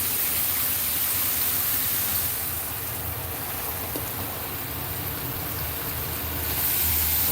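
Water runs steadily into a Gardyn hydroponic tank, a continuous rushing pour that eases slightly midway and swells again near the end, with no talk.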